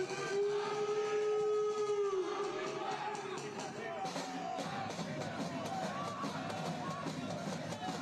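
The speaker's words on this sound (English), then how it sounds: "Whistle sounds and the ball is rolling." A referee's whistle blows a long sustained note to start a soccer match between Atlanta United 2 and Chattanooga FC, ringing out over a steady crowd roar with drums and a commentator talking.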